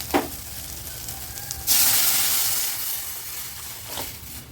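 Tamarind water pours into a hot pot of onion rasam with a sudden loud sizzling hiss that slowly fades, with a couple of faint clinks before and after.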